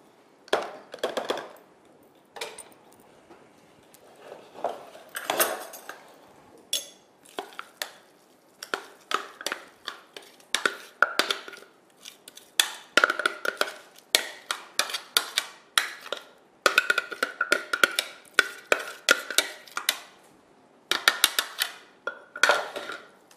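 Tajine ingredients being mixed in a bowl, with irregular bursts of clinking and scraping from a utensil against the bowl separated by short pauses, close and fairly crisp, no voices.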